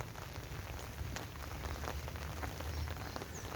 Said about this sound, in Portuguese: Tá chovendo um pouco, bem fraquinho, mas continua chovendo